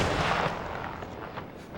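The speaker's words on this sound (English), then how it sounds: "A Maravilla's crewman fired a cannon to warn the other ships in the fleet of the dangerous reefs." Single booming cannon shot from an old sailing ship of a treasure fleet, a loud blast at the start that rolls off into a fading rumble.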